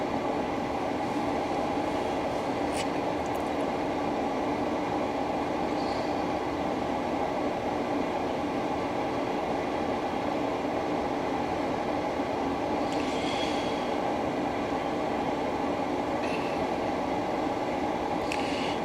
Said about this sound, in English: this train's taking forever